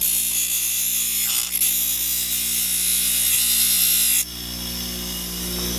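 A power tool runs continuously in a workshop, trimming the plastic headlight projector shrouds on a 1996 Ford F-150 during a bi-xenon projector retrofit. The buzzing whine stays steady and close, dipping briefly midway and again near the end, with no talk.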